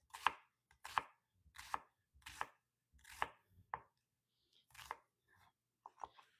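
A knife slices through onion on a cutting board in about ten crisp, evenly spaced chops, close and fairly quiet, with no talk.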